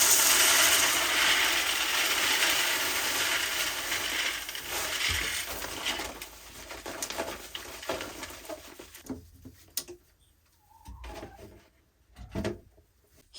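Chicken feed poured into a homemade plastic PVC feeder hung from a rope: a steady rushing rattle of grains that thins and fades over about nine seconds, then a few scattered soft knocks and taps.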